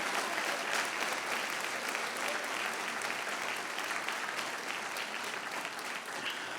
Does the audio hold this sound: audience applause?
yes